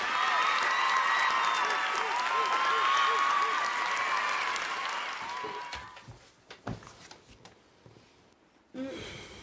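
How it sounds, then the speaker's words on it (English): A live show audience gives a round of applause with some cheering, loud and dense for several seconds before fading into scattered claps and talk. "Let's give a round of applause."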